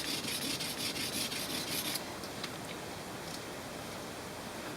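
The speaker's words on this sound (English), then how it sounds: "try to sharpen it fast as I can" A knife being sharpened as quickly as possible, heard as a continuous close rasping scrape that gets a rapid rhythmic edge for the first two seconds and then smooths into a steadier, softer grind.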